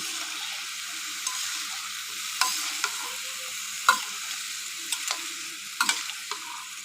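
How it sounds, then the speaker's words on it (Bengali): Tengra fish curry with eggplant and potatoes fries in a pan, a steady sizzle broken by repeated spoon scrapes and light knocks as it is stirred, heard alone and close. "সব কিছু ভালোভাবে কষিয়ে নিয়ে ঢাকনা দিয়ে ঢেকে অপেক্ষা করব"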